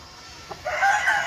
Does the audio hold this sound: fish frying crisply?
no